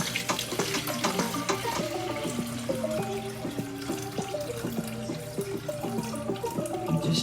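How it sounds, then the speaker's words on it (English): Water from a pot of boiled potatoes pours off into a sink during chuck roast cooking, a steady splashing, gurgling stream lasting throughout, close and fairly loud with no talk. "I'm just draining the water off of the potatoes."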